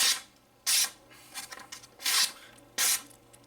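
Three loud, sharp swipes of a Kershaw Shuffle pocket knife slicing through paper, each a brief rasping burst, with quieter rustling of the sheet in between and no voices.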